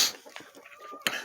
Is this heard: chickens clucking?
yes